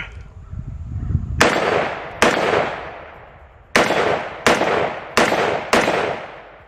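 Six loud, sharp shots from a Galil rifle during a test firing, spaced irregularly with brief echoing decays; a faint voice is heard just before the first shot.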